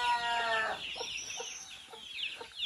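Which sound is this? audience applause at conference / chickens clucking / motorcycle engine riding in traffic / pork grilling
chickens clucking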